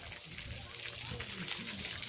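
Natural spring water pours steadily from a mountain source at a bathing resort, a constant broadband rush with splashing, filling the whole clip at moderate level.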